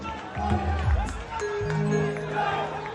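A Govinda pathak crowd roars and shouts in celebration after forming a seven-tier human pyramid outdoors, loud overlapping voices and cheers filling the whole moment.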